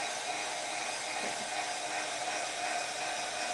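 Hair dryer blowing a steady, continuous whoosh close by while drying black paint on a craft project, constant in level with no speech.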